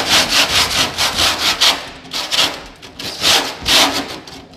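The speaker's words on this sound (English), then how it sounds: "let's sand this bit down a little" Hand sanding on a Mustang fender during a car project, a loud, rhythmic back-and-forth scraping with about a dozen even strokes, close up and alone.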